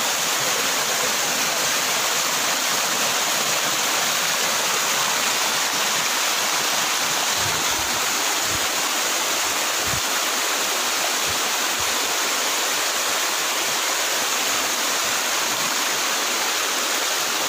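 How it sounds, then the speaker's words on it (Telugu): A distant waterfall roars as a steady, broadband wash of rushing water, continuous and even throughout, heard outdoors from a roadside edge with no voices. "దూరంగా ఒక వాటర్ ఫాల్స్ అది."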